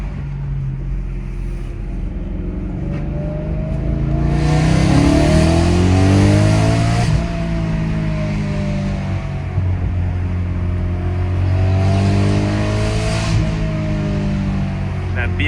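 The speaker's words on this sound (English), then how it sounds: "That BMW rasp." A BMW E92 M3 engine revs hard with a raspy, rising and falling note, surging twice over steady engine drone, with voices talking over it.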